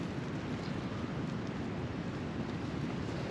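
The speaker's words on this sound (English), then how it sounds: "most of the time the wind is like this" Wind blows at a winter wild camp in Edale in the Peak District during a storm, a steady low roar and rumble buffeting the microphone without a break.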